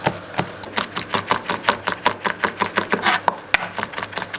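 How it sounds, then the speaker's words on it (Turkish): A knife chops kaşar cheese finely on a cutting board in quick, regular strikes, about five per second, steady and close. "kaşarımızı rendeleyebiliriz veya doğrayabiliriz."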